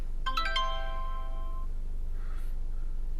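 A doorbell chime rings out once, bright tones sustaining and fading over a steady low hum, with a faint rustle afterward.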